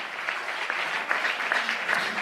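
A church congregation applauding and cheering in praise of Jesus, a dense, continuous burst of clapping from many hands filling the whole stretch, with some voices mixed in.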